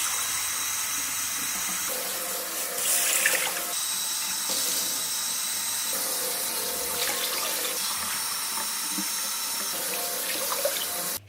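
Water streams steadily from a kitchen tap into a rice cooker pot holding glutinous sticky rice, a continuous close splashing rush that shifts in pitch as the pot fills, with no talk.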